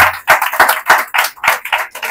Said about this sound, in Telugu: దేవునికి స్తోత్రంగా చప్పట్లు కొట్టి దేవుని వందనాలు చెల్లించండి.